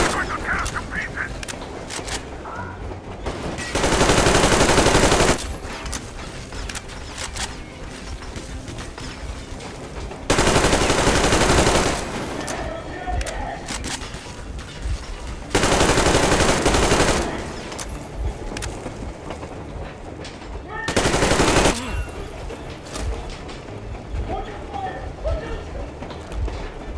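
Gunfire in Metro Exodus Enhanced Edition, heard as four loud, dense bursts of automatic fire each lasting about one to two seconds, separated by quieter stretches of game ambience and voices talking.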